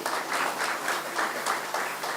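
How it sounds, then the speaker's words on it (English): Audience applause at the Golden Drum Awards ceremony in Dominica, a steady wash of clapping that swells in faint pulses and holds for the whole stretch at moderate distance, with no voices over it. "Let's give another round of applause"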